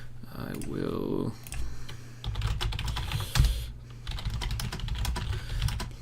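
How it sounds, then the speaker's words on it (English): Rapid typing on a computer keyboard during an online 8v8 match, clattering keystrokes in uneven bursts close to the microphone, with a voice talking over parts of it. "listen to me type."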